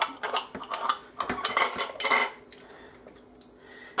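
Beet slices clatter into glass canning jars in quick bursts of clinks and scrapes, close and bright, then taper to quieter rattles and silence before a final clink.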